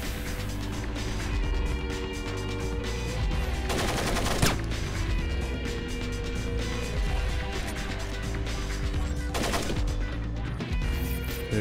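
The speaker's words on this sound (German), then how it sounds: "Oh nein, die werden gleich schießen." Gunfire from mercenaries in the stealth game Splinter Cell: sustained machine-gun bursts and rattling shots over a steady background of music and mechanical noise, with two sharper crashing bursts standing out.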